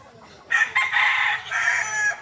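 A brood stag rooster crows nearby on a game farm, a single strong, ragged crow lasting under two seconds after a brief quiet lead-in.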